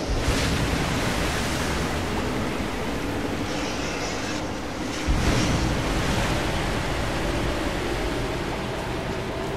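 Ocean waves churn and crash inside a whirlpool cave in Rise of the Tomb Raider, a dense, roaring wash of surf that swells and surges again midway, with no talking over it.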